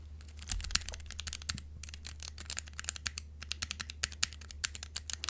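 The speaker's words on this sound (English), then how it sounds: "so these are the brown switches" Keystrokes on a mechanical keyboard fitted with brown switches, a steady run of crisp, close clicks and soft thocks in an irregular typing rhythm, heard alone with no voices.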